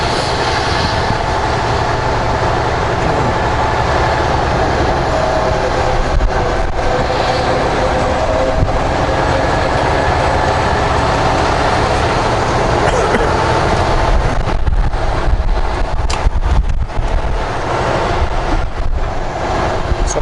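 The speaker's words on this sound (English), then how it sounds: "The blue one way out there where the red car is, the little blue engine's working away," A small blue switching locomotive works in the distance on a farmland rail line, shunting train cars, heard as a steady low rumble blended with nearby truck cab road noise throughout.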